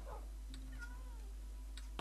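A cat in the video game Minecraft meows several times in quick succession, soft and fairly quiet, alone over a low steady hum.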